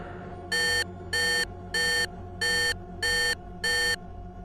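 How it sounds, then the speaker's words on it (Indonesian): Six identical electronic beeps from a vehicle alarm going off at night sound in an even, steady rhythm, each lasting about a quarter second, bright and piercing above a low background hum. "suara alarm dari kendaraanku yang malam itu tiba-tiba berbunyi dengan sangat kencang"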